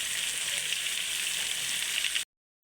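Spices (chili powder, turmeric, cumin, coriander and salt) sizzle steadily in a hot pan for a ridge gourd, potato and fish curry, a bright continuous hiss close up that cuts off abruptly near the end.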